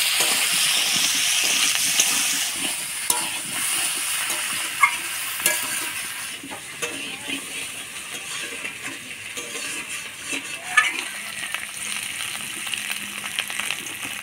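Potatoes salted and seasoned with turmeric fry in a pan while a spatula stirs them, giving a steady close sizzle with scraping and clinking scrapes throughout.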